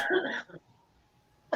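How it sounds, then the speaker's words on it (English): A person coughs hard in a short fit, a dense burst of hacking followed by a brief second cough, then a quiet pause and one more sharp cough right at the end, close and alone. "Coughing fit."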